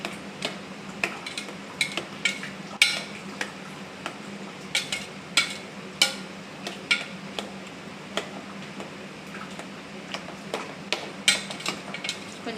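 Ripe mango pieces stirred in a pan of ghee, with a steady low frying hiss under repeated sharp clicks and taps of a spoon against the pan, close and fairly quiet.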